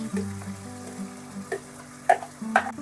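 Fried jackfruit and prawns go into a sizzling Bengali curry with potatoes and spices, giving a close, steady frying hiss with a few stirring clinks and scrapes.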